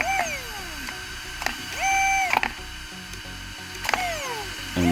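An electric RC car motor, a GT Sky unit on a 3S battery, spins up and down with rising and falling whines while the steering servo buzzes in short bursts; the sound is close and mechanical, with no talking.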